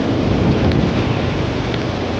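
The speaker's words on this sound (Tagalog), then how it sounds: "Lakas ng ulan!" Heavy rain pours down in a dense, steady roar, loud and close with no pauses.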